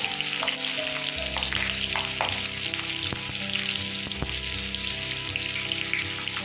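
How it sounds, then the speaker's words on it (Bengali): Pieces of pointed gourd (potol) sizzle and crackle steadily in hot oil in a pan, with scattered pops and clinks of a utensil over the continuous frying hiss. "ভেজে নেবো পটলগুলোকে।"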